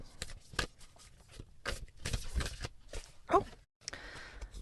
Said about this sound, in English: I'm going to take a minute and shuffle